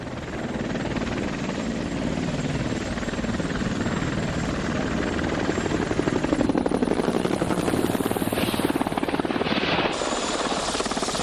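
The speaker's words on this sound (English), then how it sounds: "we need to call in some helos to get us out of there" A helicopter flies overhead, its steady loud rotor thump and engine whine continuing throughout, with a higher whine briefly rising near the end.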